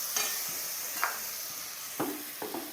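Water poured into a pan of fried spices for a fish curry, producing a steady close hiss and sizzle with a few brief stirring clinks and scrapes.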